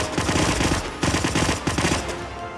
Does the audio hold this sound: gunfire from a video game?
yes